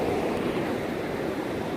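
Ocean waves at Atami Beach in El Salvador, a loud continuous wash of surf with no pauses, close and alone.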